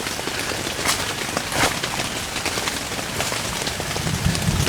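Heavy rain drums on a camping tent, a dense, continuous patter with a few sharper drops standing out, close and enveloping with no talking.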